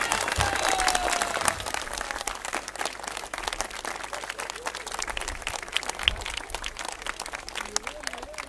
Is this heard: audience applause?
yes